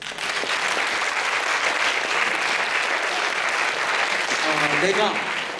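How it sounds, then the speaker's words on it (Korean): Applause from a student audience at a Friday campus chapel service of CCC in Daejeon, dense and sustained throughout, with a voice calling out briefly near the end over the clapping. "동의하시는 분만 박수 치세요."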